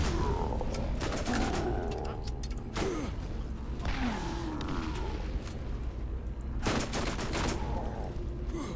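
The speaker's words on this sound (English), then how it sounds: "See, I do love this SMG here." Bursts of SMG gunfire in the video game Borderlands, Zombie Island of Dr. Ned DLC, rattle out in several sharp volleys over a dense, steady backdrop of game noise, with loud impacts at irregular intervals.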